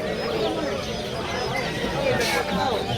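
Chickens and pigeons cluck amid a busy, noisy pet market bustle in Malabon, with people chattering nearby and a constant crowded background din.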